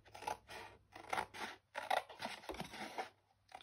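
Scissors cut through paper for a craft gift box in about five quick, crisp snips, each a short rasping slice separated by brief pauses, close and quiet.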